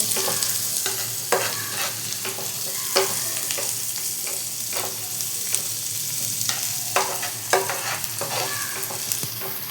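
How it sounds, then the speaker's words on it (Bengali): A spoon scrapes and stirs through sizzling spices for ghugni in a pan, with repeated clanks against the metal over a steady frying hiss. "এবার আমি মশলাটা ভালো করে মিক্স করব।"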